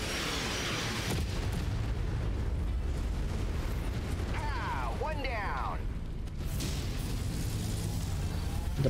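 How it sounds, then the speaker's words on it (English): Artillery in the Mechwarrior 5 game pounds as a loud, continuous rumbling barrage of booms, with a whining sweep midway and a voice talking over it. "Jesus, artillery."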